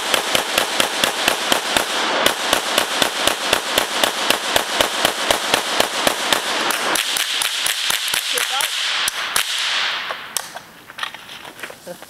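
Rapid rifle gunfire from an AK47 and a Mini 14 shot at a tree stump outdoors, a long run of loud, sharp, evenly spaced reports that thins to a few scattered shots and fades, with faint voices at the end.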